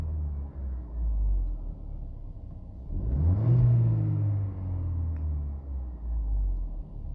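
A Mercedes W176 engine idles with a steady low rumble, then revs up to higher RPM and settles back, heard close and alone during a high-pressure fuel pump test.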